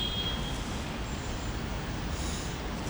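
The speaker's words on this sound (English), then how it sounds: "All the boats going across, all the buses going across Waterloo Bridge" Traffic crossing Waterloo Bridge over the Thames in London, with buses in the flow, a steady low roadway rumble heard from some distance across the river, constant and without voices.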